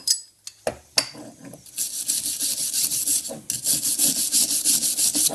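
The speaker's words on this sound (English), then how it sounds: "Now I'm going to get my steel brush and get up in the corner of the dovetails" A steel brush scrubs the dovetail corners of the slide plate on a Pro Cut on-car brake lathe, starting with a few sharp knocks and then settling into rapid, rhythmic metallic rasping strokes close by.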